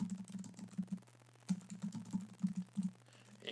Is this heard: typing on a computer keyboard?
yes